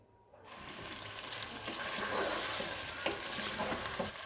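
Onions, tomatoes and green chillies fry in a pan with a loud, close, rising sizzle, broken by occasional scraping stirs, and no one talks.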